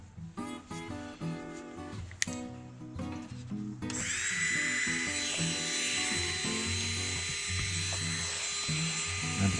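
A rotary carving tool fitted with a flame burr works a wooden bass carving. It opens with intermittent short grinding bursts, then shifts into a loud, continuous high-pitched whine as the burr cuts steadily into the wood.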